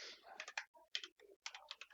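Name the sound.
typing on a computer keyboard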